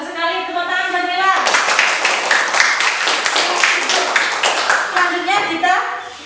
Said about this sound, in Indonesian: Tepuk tangan buat Mila.